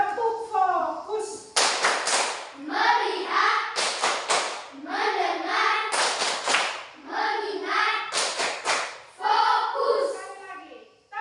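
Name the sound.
group clapping the tepuk fokus pattern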